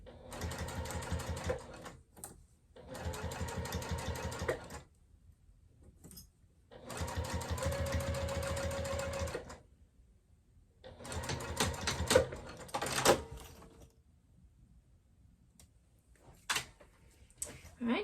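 A domestic sewing machine back stitches a wristlet pouch in several bursts of rapid mechanical stitching, each a few seconds long, separated by pauses with faint handling clicks, loud and close with no talk.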